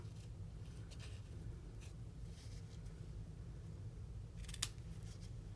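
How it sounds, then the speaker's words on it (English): Scissors snip the end off a strip of craft paper, a single faint crisp cut late on over steady low background hum, with a few soft rustles of paper before it. "That's the end I'm gonna banner so we can cut that off."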